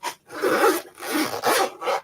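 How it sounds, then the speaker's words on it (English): A zipper on a bag is pulled open in several quick, raspy strokes with short pauses between them, close and clear with no talking. "the zipper starts clear down here. So the whole thing is going to open up."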